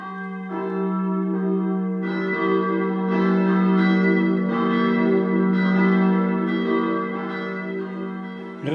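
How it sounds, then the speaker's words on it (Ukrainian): Recorded church bells played from an MP3 electronic bell player, four bells struck in a steady rhythm over a sustained low hum, loud and resonant with no voices. "І слухаємо, що в нас є. Чотири дзвона."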